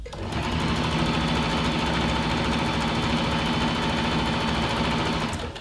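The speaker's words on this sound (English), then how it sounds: "we're going to use a straight stitch and a centimetre seam allowance, and we're going to go forwards and backwards a couple of times to close off the seam" A sewing machine runs a steady straight stitch along a neoprene seam for a cocoon skirt, a continuous close, loud motor whir with a rapid needle rhythm that winds down at the end.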